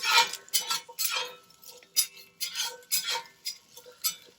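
A spoon scrapes and stirs onions and carrots in a pot for Greek lentil soup, giving a run of near, fairly quiet strokes and clinks about every half second, with no voices.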